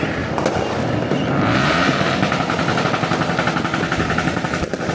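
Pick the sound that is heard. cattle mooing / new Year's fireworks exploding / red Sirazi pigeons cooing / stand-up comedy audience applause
new Year's fireworks exploding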